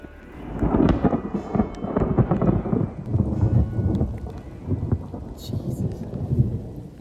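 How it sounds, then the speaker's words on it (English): Heavy thunder rumbles through a storm in the Ecuador countryside, deep rolling booms layered over steady rain, continuous and loud across the whole stretch. "There is some crazy thunder and lightning."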